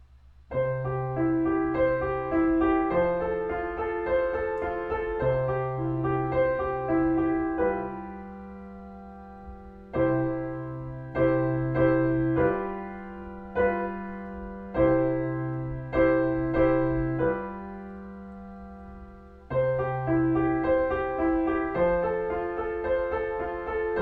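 Solo improvised piano in ABA form plays a flowing patterned figuration, shifts to slower chorale-style block-chord phrases, then returns to the opening figuration, clear and unaccompanied.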